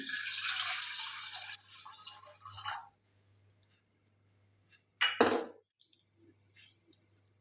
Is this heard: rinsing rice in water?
yes